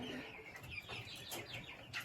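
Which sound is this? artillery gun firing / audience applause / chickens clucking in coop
chickens clucking in coop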